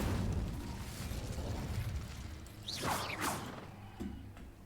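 An Incendio fire spell is cast in Hogwarts Legacy, producing a couple of sharp whooshing bursts over a busy low rumble of game ambience, fairly faint and with no voices.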